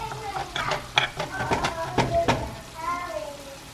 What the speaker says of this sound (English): So I'm going to cook mine down for the remainder of the 10 minutes.